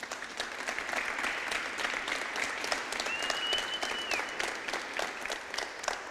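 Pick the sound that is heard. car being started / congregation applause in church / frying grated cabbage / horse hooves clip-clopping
congregation applause in church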